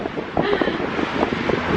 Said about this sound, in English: It is windy as anything up here.